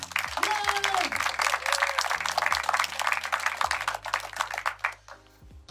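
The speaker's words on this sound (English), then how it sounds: "So quick round of applause for our sponsors." Brief round of applause for sponsors at the Beeston Film Festival awards, lively clapping with a whoop and some voices mixed in, then fading to quiet near the end.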